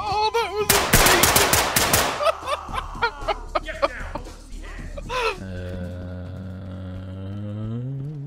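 Rapid bursts of gunfire from the tactical shooter game Ready or Not crackle loudly in the first seconds, followed by scattered single shots and thuds while players talk and laugh over the action.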